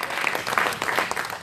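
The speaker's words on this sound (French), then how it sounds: "Un bel applaudissement pour les tous nos amis" A crowd at a pastors' anniversary gathering applauds, a brief burst of many hands clapping at moderate volume, dense and continuous with a few brighter sharp claps mixed in.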